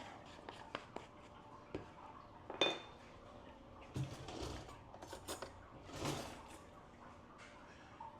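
A spoon clinks and scrapes against a bowl while streusel is mixed with cinnamon (no pecans) for a sweet potato cake, with scattered knocks and rustles in a quiet kitchen.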